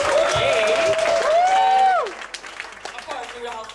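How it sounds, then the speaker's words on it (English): A crowd at a PechaKucha Night talk event in Ubud, Bali claps and cheers loudly for a couple of seconds, with a whooping voice rising over it, then the applause trails off into scattered claps. "Can I have three more applause for the previous three speakers?"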